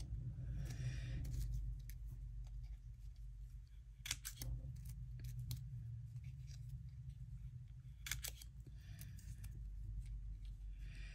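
Scissors snip paper scraps from collage journal pages, a few crisp cuts standing out against a steady low background hum, near and fairly quiet.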